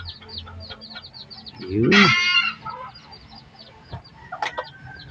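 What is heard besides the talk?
bantam chicken and chicks clucking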